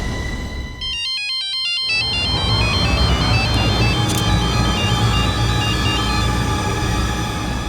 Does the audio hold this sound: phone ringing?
yes